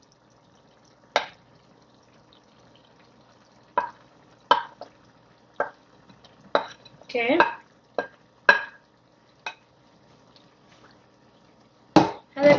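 Chicken pieces stirred into a sizzling tikka masala gravy in a hot pan, heard as a series of short scraping, splattering bursts with pauses between them, while a voice briefly speaks once.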